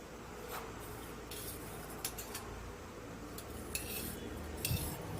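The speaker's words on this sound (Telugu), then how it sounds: "మనం కలిపి పెట్టుకున్న కస్టర్డ్ని ఇందులో వేసుకొని కలుపుకోవాలి." A spoon scraping and clinking inside a metal pot as custard is stirred into cooked vermicelli, with irregular taps and scrapes over a steady low background hum and no voices.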